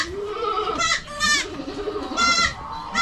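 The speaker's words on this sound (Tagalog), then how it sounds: "may 12 tayong maliit na kambing" Young goats bleat nearby, several loud, wavering cries in quick succession with short pauses between them, standing out clearly above a quiet background.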